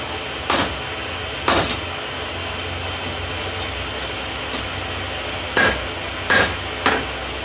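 Hammer blows on a hot seax blade being flattened at the forge, about seven sharp ringing strikes spaced irregularly over a steady background hiss.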